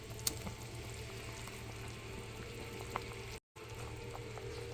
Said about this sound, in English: I'm not going to cover this up because I want this broth to reduce a little bit.